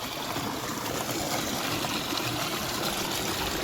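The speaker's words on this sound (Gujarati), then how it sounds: "આ નવા બોરનું પાણી છે" Water from a newly drilled borewell, pumped through a 4-inch pipe, gushes and splashes in a steady, loud continuous stream with no talking.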